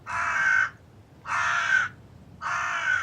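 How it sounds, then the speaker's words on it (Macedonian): A crow caws three times, each harsh call loud and close, evenly spaced about a second apart with short quiet gaps between. "еден жеден гавран летал низ сувата и прашна земја"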